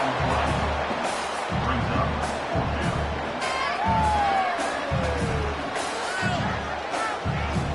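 A stadium crowd at a Cal vs Notre Dame college football game roars steadily before a fourth-down play, a loud continuous wash of cheering with shouts and whoops rising and falling throughout.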